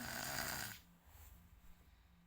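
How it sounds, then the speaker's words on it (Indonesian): A sleeping child snores softly, the quiet rasping breaths following a brief louder burst of noise at the start. "Ini tuh dia ngorok, padahal dulu nggak ngorok"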